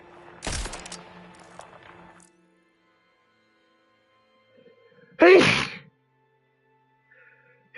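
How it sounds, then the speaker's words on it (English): A single loud, sharp sneeze bursts out close to the microphone partway through, after an earlier brief burst and some quiet background noise. "Fuck these sneezes."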